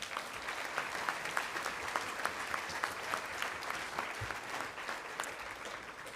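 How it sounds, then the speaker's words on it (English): A round of steady applause from the audience at the Colorado 4-H awards banquet fills the room, dense and even throughout, with a few sharper individual claps standing out. "let's give them a round of applause"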